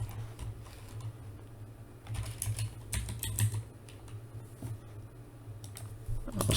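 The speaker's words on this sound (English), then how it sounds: "I'm just going to type something in." Keys tapped on a computer keyboard at a desk while entering attribute data in a Windows program, a run of light uneven clicks over a steady low hum, fairly close and fairly quiet.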